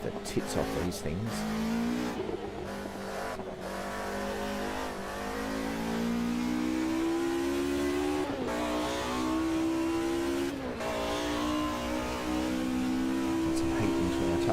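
Race cars revving hard in the racing game Automobilista 2, engine pitch climbing and dropping repeatedly with a continuous loud roar, and brief tire noise near the start.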